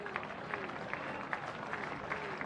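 A college baseball stadium crowd at Florida applauds steadily during a late-season game, with dense clapping and cheering filling the space and a few sharper claps standing out.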